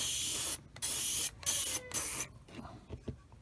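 A Sparmax Flyer SR airbrush, opened up wide, sprays paint in four bursts of loud, close hissing with brief gaps until nearly empty, then falls quiet apart from a few soft clicks.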